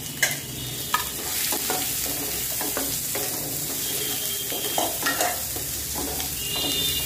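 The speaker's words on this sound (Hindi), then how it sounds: "पहले हम ऑनियन को अच्छा पका लेंगे" Continuous sizzling of onions frying in a pan, with occasional scraping and stirring clatter over a steady hiss; no talking.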